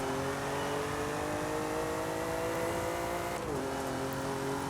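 A car engine in Forza Horizon 5 revs steadily upward under a dense roar, with a brief drop in pitch partway through as it shifts and keeps accelerating.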